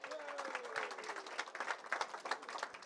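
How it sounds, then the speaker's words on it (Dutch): Crowd applause for the two coaches after an amateur football match between DVS'33 Ermelo and Harkemase Boys, with dense, steady clapping and a faint voice underneath. "ik wil allereerst een applaus voor beide trainers"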